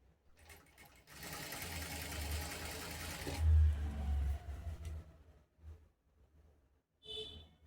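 Sewing machine stitching a straight cut kameez, running in steady bursts over the first few seconds, then a pause, a short second run and a brief final whir; close and clear with no talk.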